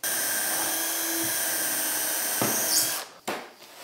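A power drill bores holes for a UJK Parf Guide System, its steady high whine running continuously for about three seconds before cutting off, followed by a brief final burst, close and loud with no talk.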